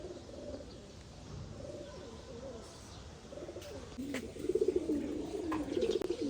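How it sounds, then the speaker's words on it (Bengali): Pigeons coo with soft, rolling low calls as they are let out of a covered cage, the cooing growing denser and louder toward the end, with a few brief chirps and faint bird activity nearby. "দেখি কবুতরগুলো ছাড়ি।"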